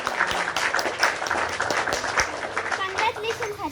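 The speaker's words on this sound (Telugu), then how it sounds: "అందరు క్లాప్స్ కొట్టండి" A classroom of students clapping together, dense, steady applause near and loud throughout, with voices mixed in.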